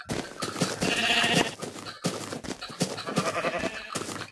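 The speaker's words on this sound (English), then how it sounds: "Oh wow, there's a lot of sheep." Sheep in Minecraft bleat repeatedly, several overlapping calls close by and fairly loud against a busy game soundscape.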